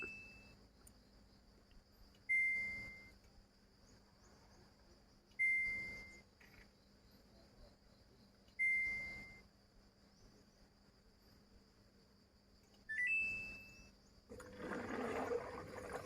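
Water runs quietly in the background while a coin-operated washing machine filling with water gives several short high beeps at regular intervals, then a louder rush of water near the end.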